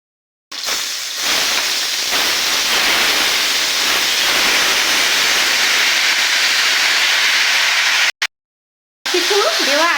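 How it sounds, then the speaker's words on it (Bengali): Spiced puti fish and radish mixture hits hot oil in a wok, giving a loud, steady hiss and sizzle that runs almost unbroken for about eight seconds, then cuts out briefly before resuming. "এখন আমি সব কিছু মেখে রাখা মূলো মাছ কড়াইয়ে"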